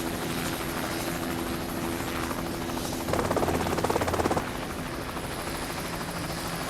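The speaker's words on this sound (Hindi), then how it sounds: "हेलीकॉप्टर से डर लग रहा है क्या?" A helicopter's steady rotor thrum and whine fills the scene at moderate volume, briefly swelling louder and more chopping midway before settling back.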